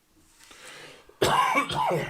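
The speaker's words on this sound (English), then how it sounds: "I'm just going to cough in the microphone at full speed" A single harsh cough bursts close into the microphone after a moment of faint background hiss.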